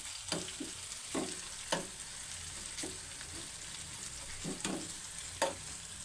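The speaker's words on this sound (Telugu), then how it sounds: "ఆనియన్స్ వేగిన దాకా కలుపుకుందాం" Sliced onions and green chillies frying in oil for a cabbage tomato curry, a soft steady sizzle broken by periodic scraping strokes of a stirring spoon, close and quiet.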